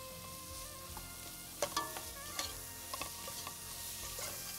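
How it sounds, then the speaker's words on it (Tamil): Onions frying in oil with grated carrot added, a soft steady sizzle with a few scattered clinks and scrapes of a stirring spoon against the pan, no talking. "நல்லா வதங்கி அந்த எண்ணெய் தனியாக தனியாக பிரிஞ்சு வருது பாருங்கள்"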